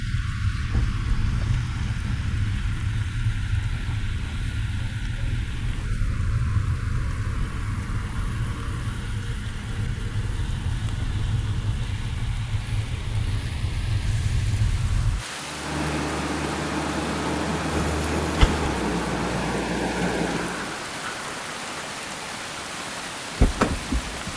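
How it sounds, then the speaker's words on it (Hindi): Steady, heavy rain hisses continuously, with a dull low rumble beneath; the texture changes midway as if heard from another spot, with occasional sharp knocks. "बारिश बहुत तेज है"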